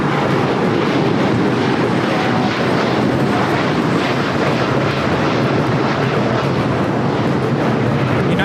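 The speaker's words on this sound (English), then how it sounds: "United Airlines Flight 32 taking off to Tokyo Narita on the 787-9 Dreamliner." A United Airlines Boeing 787-9 Dreamliner takes off at LAX with a loud, steady, close jet engine roar that runs unbroken throughout.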